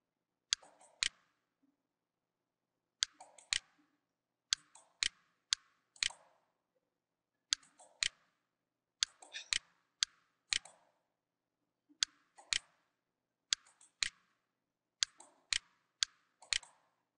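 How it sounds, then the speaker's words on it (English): Keys clack on a computer keyboard in short clustered bursts separated by brief pauses, crisp and close with no voices. "So we turn on the caps and we type NPS. Take off the caps and type certificate."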